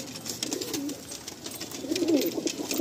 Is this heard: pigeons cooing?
yes